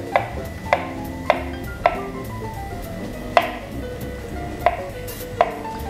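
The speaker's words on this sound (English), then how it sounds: "So we're gonna slice the avocado." A knife slicing through large avocados on a board, about eight sharp, evenly spaced taps with faint ringing between them, close and clear with no talk.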